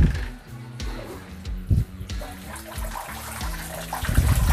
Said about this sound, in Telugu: ఇప్పుడు మనం పంప్ మోటార్ది స్విచ్ ఆన్ చేస్తే ఇప్పుడు నీళ్ళు వస్తాయి మనకు.